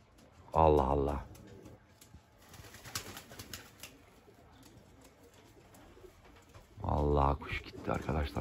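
Young homing pigeons coo in two loud, close bursts at the start and end, with softer rustling and faint wing movement between; someone speaks quietly in the background.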